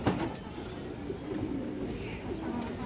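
A female Army breed pigeon gives low, murmuring coos, faint and continuous over a few seconds, with light background noise and no talk.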